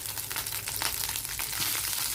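Spice powder for pepper rasam frying in a pan, a steady dense sizzle with crackling pops running throughout, close and moderately loud with no talk.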